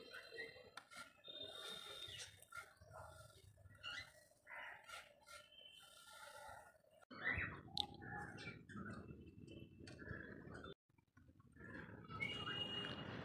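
Doves and other small birds gather to eat scattered grain in the early morning, chirping and calling continuously at close to mid distance, with soft rustling in the background.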